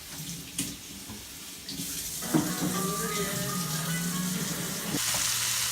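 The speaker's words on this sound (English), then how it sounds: "Cooking up some Beyond Meat crumbles." Beyond Meat crumbles sizzling in a pan for taco night, a steady broadband hiss holding from about two seconds on, with faint kitchen clatter and low voice murmur in the background.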